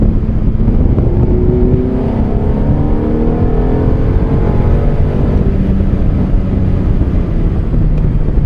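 A Fiat car accelerates while driving, a steady loud engine drone with rising harmonic tones as it pulls through the gears, mixed with wind and road rumble and no talk.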